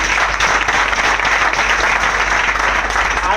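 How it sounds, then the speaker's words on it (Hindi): Loud, dense applause from a large audience at an RCM business meeting in Ghaziabad, a steady wash of clapping that holds evenly throughout with no speech over it. "एक बार फिर से जोरदार तालियां।"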